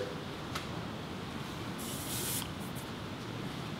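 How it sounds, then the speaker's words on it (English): An aerosol rust-preventive coating is sprayed onto the bare strut towers of a Foxbody car, a brief, close hissing burst over a steady, noisy background. "Probably go ahead and start coating some of this stuff so it doesn't rust."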